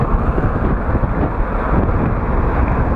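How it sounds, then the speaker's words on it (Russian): Strong wind buffets the clipped-on microphone of a Firefly 8S action camera, a loud continuous roaring rumble with gusty swells and no clear speech. "Дует!"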